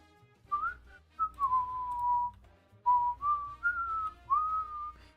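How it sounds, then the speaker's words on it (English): A person whistles a clear, pure-toned melody of several sustained and sliding notes in two phrases, close and alone, with a faint low hum underneath. "Can you hear me whistling or no?"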